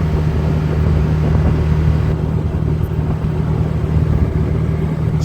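A Can-Am Defender HD9 UTV engine cruises at about 4,600 RPM and 15 mph while towing, giving a steady, loud, even droning hum with low rumble throughout.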